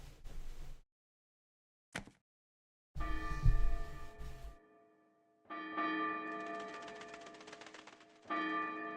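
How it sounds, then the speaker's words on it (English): A noon church bell rings in the video game Trails in the Sky, with two resonant, ringing strikes following a few scattered softer sounds, moderately loud and without talk. "All right, the noon bell."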